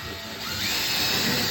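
A power drill bores a hole into a car bonnet, a loud close whine whose pitch rises and steadies as the bit bites into the metal panel.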